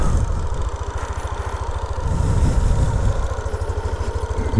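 A Yamaha NMAX V2.1 scooter engine idles at a car wash, a steady fast putter close by that swells briefly in the middle, with no talk over it.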